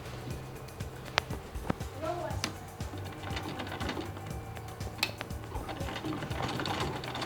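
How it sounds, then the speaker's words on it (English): A domestic sewing machine topstitches a garment's shoulder line in steady bursts of rapid mechanical stitching, with a rhythmic whir and clatter, close by, under occasional talk. "Now I'm top stitching on the shoulder line, and I'll be making use of my domestic sewing machine"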